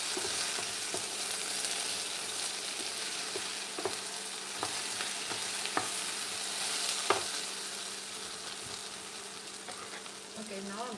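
Potatoes and mushrooms fry in a pan with a steady, close sizzle and crackle, broken by scattered sharp clicks and scrapes of stirring throughout.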